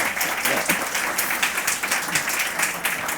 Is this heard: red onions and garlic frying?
no